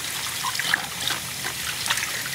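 Deveined, trimmed shrimp are rinsed under water, making a soft, irregular trickle and splash with small drips and clinks close by. The sound is fairly quiet, and no one speaks.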